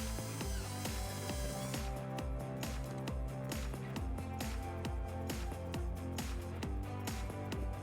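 A ratchet drives a screw into the rear bumper fascia of a 2006 Hyundai Sonata while a trailer wiring bracket is fitted, giving a steady run of close, rapid mechanical clicks that continues throughout.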